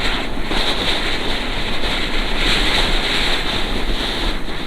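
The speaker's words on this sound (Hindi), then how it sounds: "हवा का बहुत ही प्रेशर है, इतना प्रेशर है हवा का" Strong wind blasting on a mountain road in Kohistan, a loud, continuous rushing roar buffeting the microphone with no letup.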